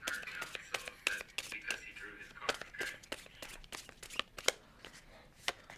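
Cards of an Exploding Kittens draw pile shuffled up close, a quick run of crisp riffling clicks and flutters with soft whispering voices underneath.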